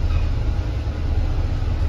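An MRT metro train near Novena Square in Singapore on a Friday night gives a steady, loud low rumble that holds without a break, with no talk over it.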